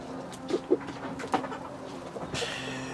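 Brakel chickens clucking and calling near a coop box, a few short soft clucks and a brief louder call, close by with some background noise.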